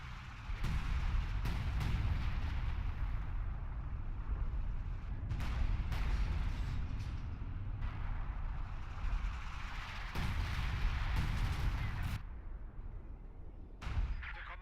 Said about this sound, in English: Using the recon to bring in more artillery.